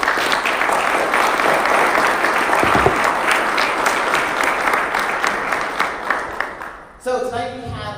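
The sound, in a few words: audience round of applause for the speakers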